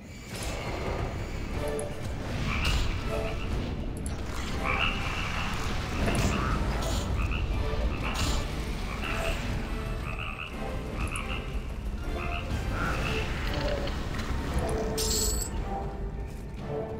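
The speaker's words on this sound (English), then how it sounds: "you'll see non-aggro frogs called the Grotto Skipper" Grotto Skipper frogs in EverQuest II croak loudly and continuously, a dense chorus of overlapping calls with occasional sharper game effects mixed in and no talking.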